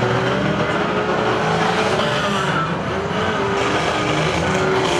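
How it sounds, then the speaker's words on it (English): Unlimited banger racing cars roar around the Mildenhall track at a Suffolk Open meeting, a dense, continuous wash of engines and tyre noise with no break. "And this is proper banger racing."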